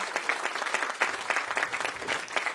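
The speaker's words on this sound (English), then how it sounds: "Another round of applause, please, ladies and gentlemen, for the Little Priyanshu." Steady applause from an audience at an Independence Day celebration for a young child performer named Priyanshu, dense clapping from many hands filling the space at a constant level.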